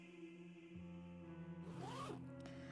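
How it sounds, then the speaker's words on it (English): A body bag zipper pulled open in one long drawn-out rasping zip, close and distinct against a low steady hum in a quiet room. "I tug the tag down and drag it along the length of the bag, and the zip makes a familiar zzz sound"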